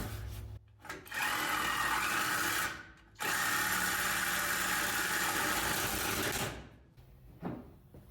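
A Sawzall reciprocating saw with a 24 TPI bimetal blade cuts metal on a C10 pickup in two long, loud, buzzing runs separated by a brief pause, close and without talk.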